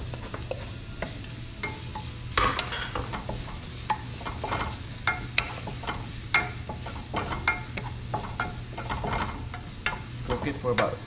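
About two tablespoons of butter and shallots cook in a pan, giving a continuous close sizzle with scattered crackles and scraping stirs throughout, with no speech.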